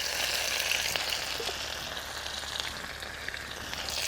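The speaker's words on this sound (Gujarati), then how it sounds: "હવે નાખશું આપણે આદુ લસણની પેસ્ટ હવે નાખશું આપણે ડાળનો મસાલો" Ginger-garlic paste and dal masala frying in a pan for a Kathiawadi urad dal dish, giving a steady, close, fairly loud sizzle with light crackles throughout and no talking.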